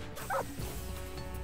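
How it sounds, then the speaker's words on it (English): A dog from the video game Metal Gear Solid 3: Snake Eater gives one short, faint whimper over steady game background noise. "Put the dog to sleep."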